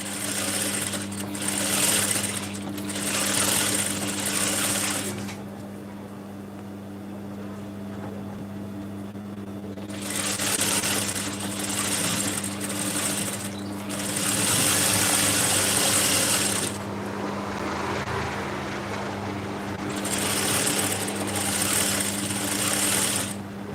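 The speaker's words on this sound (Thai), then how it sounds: "เย็บครั้งที่สองค่ะ" A sewing machine runs a narrow hem in long bursts of rapid, steady mechanical whirring, pausing briefly between runs over a constant low motor hum, close and fairly loud.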